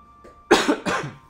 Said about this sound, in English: Had to cough once more.